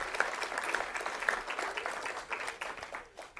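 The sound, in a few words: audience applause at commemoration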